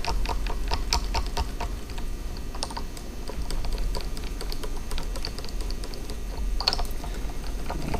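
Telecaster electric guitar strings being unwound and loosened with a peg winder, producing a steady run of small ticking and clicking sounds at close range, with no talking.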